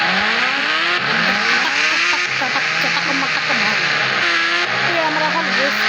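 A slow motorbike in an Indian bike racing video game, with engine revving tones that rise and fall repeatedly, loud and continuous with game sounds layered in.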